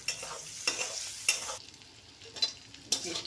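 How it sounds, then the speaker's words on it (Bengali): Chilies and onion fry in a pan on an electric heater. A steady close sizzle runs throughout, broken by several sharp scrapes of a stirring utensil. "লঙ্কা ভাজা হয়ে গেছে আমি পেঁয়াজটা ঢেলে দিব"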